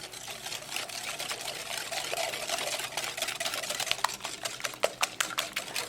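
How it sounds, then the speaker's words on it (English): A whisk beats egg and sugar in a mixing bowl for cake batter, giving a steady, close scraping and tapping rhythm with sharper clicks near the end, with no talking. "With the help of whisk,"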